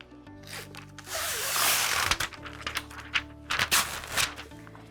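A sticky EasySubli mask sheet is peeled from its backing, a close crackling rasp that swells into a drawn-out tearing rub, followed by a series of short sharp crinkles and snaps.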